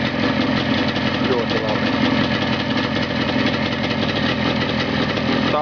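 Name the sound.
unique engine running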